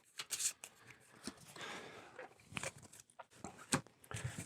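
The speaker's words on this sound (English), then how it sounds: "give them a quick shuffle." Level 3 villain cards from a gothic horror deck-building game expansion get a quick shuffle, giving close, crisp bursts of riffling and sliding card stock in irregular clusters.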